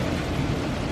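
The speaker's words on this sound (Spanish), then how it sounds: "Está granizando, pero ¿qué está pasando?" A hailstorm with thunder makes a dense, loud, continuous roar of pelting and rumbling for about a second, with no voices.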